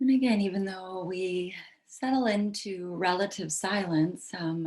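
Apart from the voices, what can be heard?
None of the usual background noises is heard.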